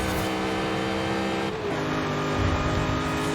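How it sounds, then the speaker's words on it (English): In Forza Horizon 5, a 2005 Ford GT's engine drones steadily with a high supercharger whine layered over it. The pitch drops briefly partway through, then the engine carries on, with no voices. "And also just love that supercharger line. Never gets old in this game."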